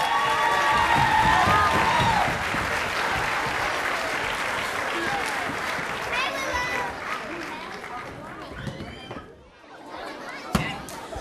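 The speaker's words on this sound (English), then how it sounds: "Another round of applause." An audience claps for kindergarten singers at a school vocal concert, loud sustained applause with scattered cheers that fades into crowd chatter and a voice over the room.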